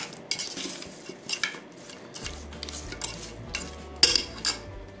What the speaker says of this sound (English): Mix all again thoroughly.